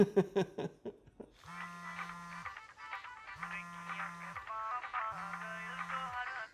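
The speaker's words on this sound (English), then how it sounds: "I love that ringtone." A phone ringtone plays a repeating melodic chime in three bursts, each with a buzzing undertone, after a few brief clicks at the start.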